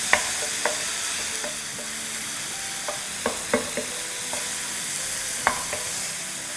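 Chili sauce mixture being stirred in a pan, with a spoon scraping and tapping the metal at irregular intervals over a low, steady sizzle, close and fairly soft, no talking.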